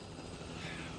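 Steady broadband whir of a helicopter in The Last of Us video game, constant and fairly faint for about a second.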